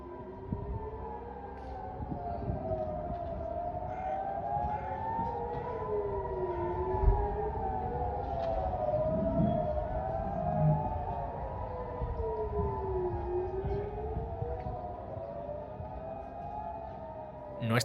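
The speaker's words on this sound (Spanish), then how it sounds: "el sonido de las sirenas antiaéreas volvió a invadir todo el país" Civil-defense air-raid sirens wail across Israel during a Hamas rocket attack, several overlapping tones rising and falling in long slow sweeps, sounding steadily and continuously from a distance for the whole span.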